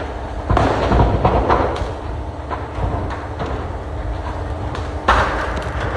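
Sharp cracking bursts from a lorry load of firecrackers going off as the lorry burns on a national highway, irregular loud pops and bangs over a crackling roar, some close, some spaced apart.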